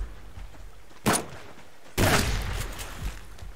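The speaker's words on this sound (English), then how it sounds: "Oh, they're shooting me." Gunfire aimed at the player in the survival game Subsistence: two sharp shots about a second apart, the second followed by a rumbling tail, against a quiet background.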